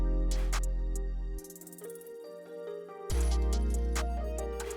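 In a pluggnb beat section, a bright ticker hits while the rest of the beat drops out, then full heavy bass and melodic layers crash back in, loud and alone.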